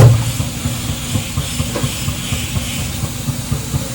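A pressure cooker on a high gas flame lets off a steady, continuous hissing steam whistle that holds at an even loudness for the whole stretch, with no one talking.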